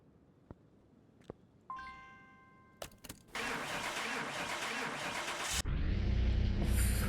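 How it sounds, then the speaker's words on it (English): A car engine cranks and starts in the Car Mechanic Simulator 2021 video game, sounding unhealthy: a few clicks and a chime, then a loud, steady broadband engine roar that holds for several seconds and swells into a heavier rumble near the end. "That engine did not sound healthy."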